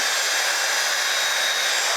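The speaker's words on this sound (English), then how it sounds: "It has a blow dryer in it as well, so that's really handy if you like to blow dry your hair." Hair styling tool with a built-in blow dryer running, a steady loud airy whoosh held without change.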